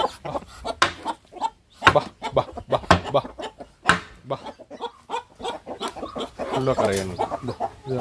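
Chickens on a poultry farm clucking and squawking in short bursts, fairly close, with a person talking intermittently over the birds.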